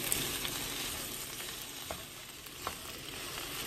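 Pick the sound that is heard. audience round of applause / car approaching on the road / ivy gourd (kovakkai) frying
ivy gourd (kovakkai) frying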